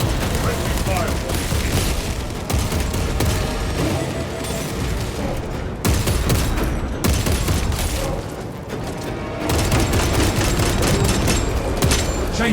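Sustained heavy gunfire and booming blasts fill a chaotic battle in the video game Warhammer 40k Space Marine 2, loud and nearly continuous, with brief lulls between bursts and in-game voices mixed in.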